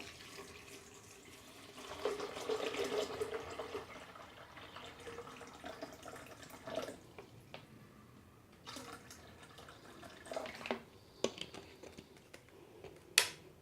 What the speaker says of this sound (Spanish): Vamos a tomar nuestros 500 mililitros de agua.